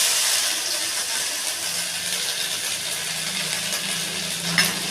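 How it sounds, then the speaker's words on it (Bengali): Dried red chillies, bay leaves and cumin sizzle steadily in hot mustard oil as fresh ginger goes in, a loud, continuous frying hiss with light stirring scrapes throughout. "সর্ষের তেল গরম করে নিয়ে শুকনো লঙ্কা, তেজপাতা, জিরে ফোড়ন দিয়েছি। এবার দেবো হচ্ছে আদা।"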